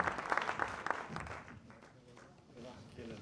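Audience applause welcoming a speaker at a New Year civic gathering in Voiron, a short burst of scattered claps that quickly fades to a quieter room murmur with faint voices.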